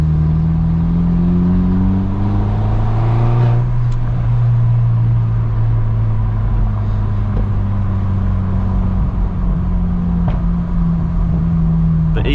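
BMW 1 Series engine and exhaust heard from inside while cruising slowly at 15–20 mph on a country road, a low, steady drone with gentle rises and falls in pitch and faint cabin noise.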